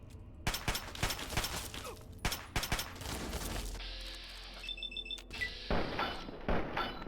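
A 10mm pistol fires in Fallout 3 in several quick sharp shots and short bursts, clustered in the first half and again near the end, with a mechanical hum and clatter between them.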